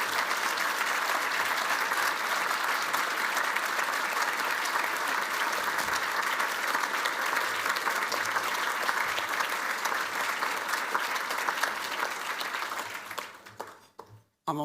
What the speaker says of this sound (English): Please give Stephen a big round of applause.